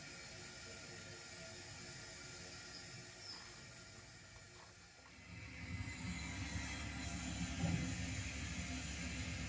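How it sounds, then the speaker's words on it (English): A model railway signal lever in 0 gauge clanks and ratchets midway, followed by a low rumbling of an arriving train that swells and continues under a quiet background. "signalman pulls off from the down main at platform 4"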